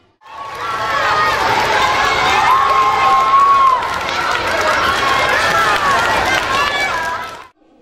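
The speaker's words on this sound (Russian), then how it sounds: "Болельщики поддерживали команды дружными криками и шквалом аплодисментов." A crowd of spectators cheers and shouts in support of children's teams at a school competition, a loud sustained roar of voices with whistles and high shrieks rising and falling.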